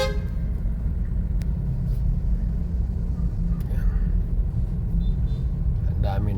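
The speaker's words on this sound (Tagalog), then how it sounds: "Ang dami ng sasakyan." Heavy road traffic on Mindanao Avenue in the Philippines rumbles on without a break, with a few car horns tooting through the steady engine noise.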